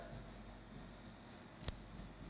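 Pen scratches faintly on paper in a quiet room, soft brief strokes with one sharper tap partway through, during a lecture on an electrical transformer test.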